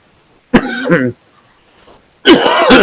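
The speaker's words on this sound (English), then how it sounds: "I still have a little cough, as you can tell" Two harsh coughs, close and loud, separated by a short quiet pause.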